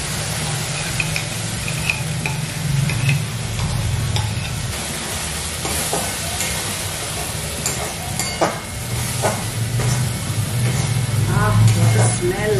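A spice paste for prawn curry fries loudly in a pan and is stirred with frequent scraping and clattering strokes over a continuous sizzle, while a person talks intermittently.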